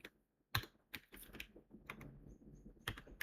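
Python code is typed on a computer keyboard in short, close bursts of clicky keystrokes with brief pauses between words, and no talking.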